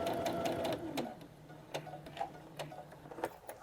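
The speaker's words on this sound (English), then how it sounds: "So what I'm going to do is I'm going to sew right up to that." A sewing machine stitching fabric for a grocery tote runs in a quick, faint burst, followed by scattered soft clicks and ticks from the machine.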